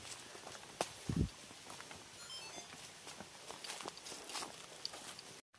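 Footsteps along an outdoor path in Majalengka toward dusk, a few irregular, fairly faint steps over a steady soft outdoor background.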